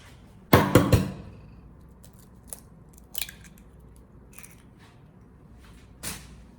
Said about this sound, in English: Now prepare a large bowl and crack 2 eggs into it.